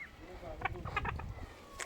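Laying chickens clucking while being fed earthworms, a few short soft clucks and chirps close by over faint background noise.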